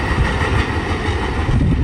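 CSX M427 freight train passing near the state line at Haverhill, Massachusetts, a loud, steady rumble of rolling railcars close by, continuous and without voices.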